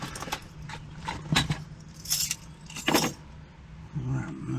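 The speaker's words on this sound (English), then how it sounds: "And those are the keys for the Weiser." Keys for a Weiser lock jangle and clink in a few loose bursts, close and fairly loud, with a car engine humming steadily underneath.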